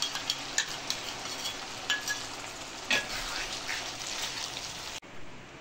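Chilli paneer sauce paste made with sugar and soy sauce goes into a hot pan, crackling and sizzling with scattered pops and spatters over a steady hiss before stopping suddenly.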